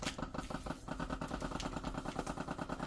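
A small vacuum sealer motor drones steadily with a rapid, pulsing chug while sealing beef steak, close and fairly loud, running continuously without any voices.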